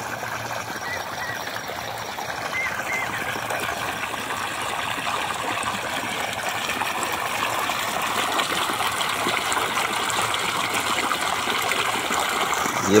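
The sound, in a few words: irrigation water flowing from a pipe into a sugarcane field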